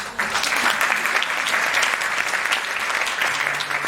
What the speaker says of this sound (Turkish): Ben de hocalarıma bir alkış.